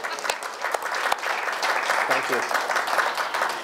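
Audience applause fills a room at a community celebration event, steady dense clapping throughout with a brief spoken thanks over it.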